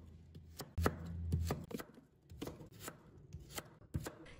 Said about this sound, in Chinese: 切好后再改刀切成条。